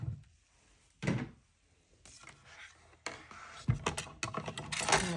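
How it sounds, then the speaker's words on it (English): A tabletop die cut machine is pulled across a craft desk and set in place, giving a series of close knocks, scrapes and clunks of plastic and metal with no talking. "So let's pull in our die cut machine."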